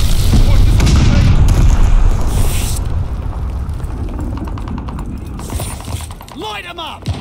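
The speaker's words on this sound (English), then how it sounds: "Friendly friendly glide bomb" Glide bomb bombing run in Call of Duty Vanguard multiplayer: heavy rumbling explosions roll loud and continuous at first, then fade into a lower churning din with mechanical clatter, while a voice calls out near the end.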